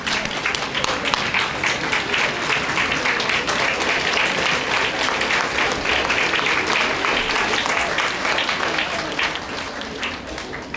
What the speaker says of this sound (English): Just stand up and give them a round of applause.